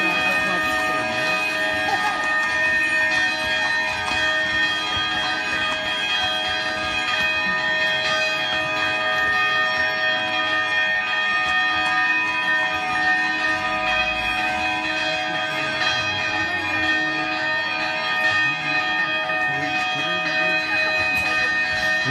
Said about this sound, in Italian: Le campane suonano a festa